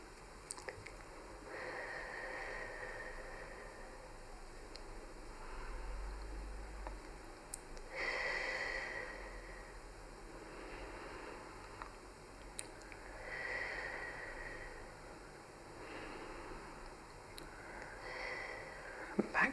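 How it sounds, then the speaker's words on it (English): Slow, deep breathing while the head is turned to one side during a self head massage, about four soft, airy breaths in a gentle rhythm, close and quiet over faint rustling, with no speech. "try and breathe your 4 breaths nice and slowly"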